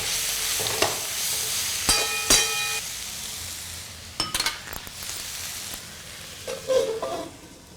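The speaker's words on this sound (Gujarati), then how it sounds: "હવે શાકને બરાબર હલાવી 5 થી 10 મિનિટ થવા દો." Vegetable curry being stirred in a pan, the spoon scraping and clattering in a few scattered bursts over a steady low frying hiss, fairly close, with no talk.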